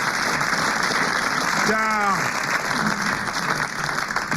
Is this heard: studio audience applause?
yes